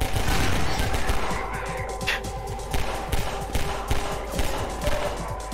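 Steady rapid gunfire rattles on through a Half-Life 2 firefight, dense overlapping shots with thumps beneath, loud and continuous, with one brighter burst partway through.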